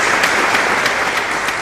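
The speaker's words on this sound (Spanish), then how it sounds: "Dale un aplauso a Cristo Jesús por eso" A church congregation bursts into applause during a sermon on the Book of Revelation. Dense, steady clapping from a large crowd fills the whole brief moment.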